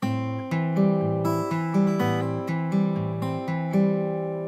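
Fingerpicked acoustic guitar plays a repeating two-bar pattern from a song, bass notes and plucked strings ringing clearly, with a quick hammered-on note adding an extra beat.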